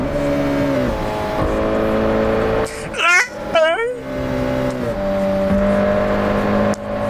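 A drift car in a video game racing down a highway hill holds a steady high-revving engine drone, then dips as fifth gear goes in, followed by a quick rising rev whine before the engine settles back at speed.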